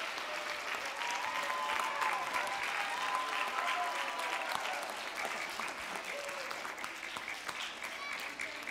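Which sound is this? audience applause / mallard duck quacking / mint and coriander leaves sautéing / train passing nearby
audience applause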